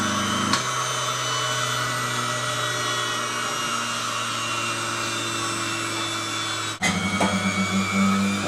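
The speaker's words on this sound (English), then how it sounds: "It starts up nice and smooth and like that, everything's in place." An electric cream separator with an 80 litre per hour capacity runs with a steady, smooth mechanical whir and hum, its motor pitch shifting as it starts up and settles, close and continuous.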